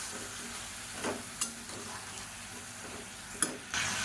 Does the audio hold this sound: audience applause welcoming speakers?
no